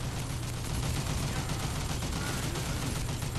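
Artillery barrage in the video game Toy Soldiers: War Chest: a dense, continuous rumble of rapid explosions and gunfire, loud and unbroken throughout.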